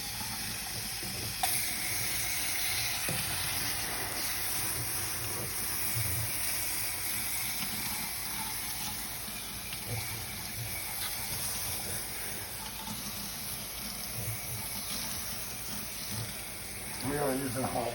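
Hot water sprays steadily onto a badly dirty A/C coil, a continuous broadband hiss and splash that holds at an even level throughout, with a brief louder burst near the end.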